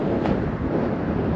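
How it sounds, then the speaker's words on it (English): Gusty wind buffets the microphone outdoors near a collapsed 1800s rail tunnel amid Permian rock, a steady, loud low rumble with no speech. "Sorry about the wind, it just got really windy."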